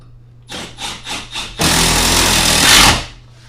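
A power tool drives fasteners to mount a heater bar, with four short revving pulses followed by one longer sustained run that cuts off abruptly, loud and close with no talk.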